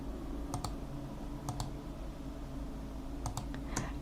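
Computer mouse clicked several times while shift is held, crisp quiet paired clicks at intervals over a low steady background hum.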